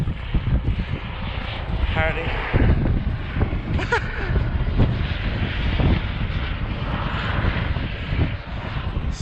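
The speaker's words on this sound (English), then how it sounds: "there's like a helicopter coming straight towards us" A helicopter flies toward hikers on Mount Snowdon, its engine and rotor droning steadily under gusting wind noise while people talk over it.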